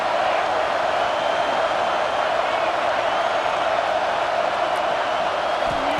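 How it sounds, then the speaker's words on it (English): Dense, steady roar of a big stadium crowd in Happy Valley at a Penn State home game, building on a third down in EA College Football 26, continuous and loud throughout. "Here comes the noise from this big crowd in Happy Valley on 3rd down."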